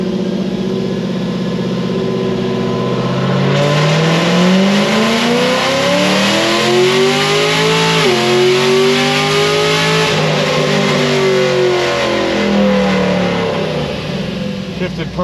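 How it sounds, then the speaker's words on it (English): A drag car with a normal tire and a Stage 4 RPM transmission is held at full throttle for a transmission pull. The loud engine climbs steadily in pitch, dips briefly at a shift and then winds up again. "let's make a trans pull"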